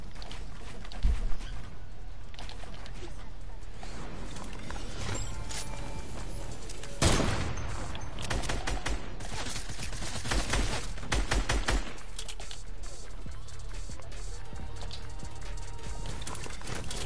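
SMG gunfire in a video game, bursts of rapid shots in clusters with pauses between, loud against a steady game background.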